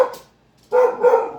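A pet dog at home barks twice, loud and close, with a short tail-off from the first bark, a pause, then a longer second bark, and no talking.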